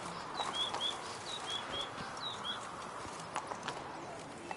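Roach the horse's hooves clip-clop at a trot in The Witcher III, moderately close, while birds chirp in a quick series of tweets over outdoor ambience.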